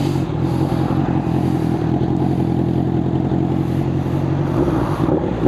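A Honda CB650R inline-four motorcycle with E-Clutch idles steadily after starting, a smooth, even engine hum that stays constant and close throughout with no talking.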